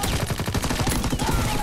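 Dense, continuous automatic gunfire from a Call of Duty WWII match, rapid overlapping shots forming a steady close-range barrage with no pauses across the whole stretch.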